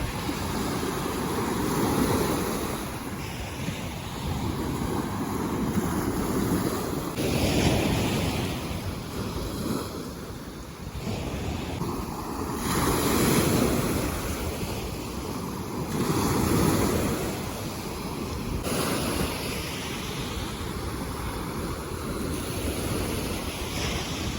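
Stormy sea surf rolls steadily onto a beach whose shore has been heavily washed out, with strong wind buffeting the microphone. Broad waves swell and break in a continuous loud roar, and no voices are heard.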